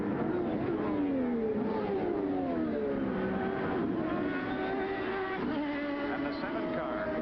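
CART Indy race cars, including the number 20 Marlboro car, circling the Portland track in 1989, several high-pitched engine whines rising and falling as cars pass and shift, continuous under a commentator's talk.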